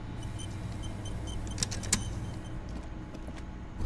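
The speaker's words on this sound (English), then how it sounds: "You hear traffic outside back in the world again." Street traffic rumbles outside in the video game Disco Elysium, a steady low wash of passing cars with a couple of faint sharp clinks partway through, and no voices.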